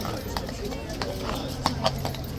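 A horse's hooves clip-clop on a hard street near a crowd, a steady series of sharp knocks heard under constant chatter and talking close by.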